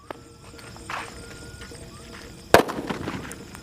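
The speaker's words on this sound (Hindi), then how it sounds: "हमारी वाडीवेल की ब्लूटूथ बम का और देखते हैं ये कैसी चलती है।" A Bluetooth bomb firecracker set off at night during Diwali fireworks testing: small fizzing pops, then one sharp, loud bang followed by crackling debris, heard outdoors at close range.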